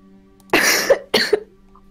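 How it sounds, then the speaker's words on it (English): Two sharp, loud coughs in quick succession from a person nearby, each a harsh burst followed by quiet, with a faint hum underneath. "I have one of those coughs that just never goes away."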